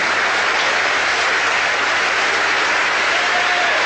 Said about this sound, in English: He is getting an applause, not necessarily from the reporters, but from the Justice Department employees